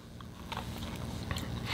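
Someone bites into a Krispy Kreme Reese's salty sweet crunch donut topped with peanut butter icing and praline pretzels, producing a few quiet, close crunchy bites and chewing clicks.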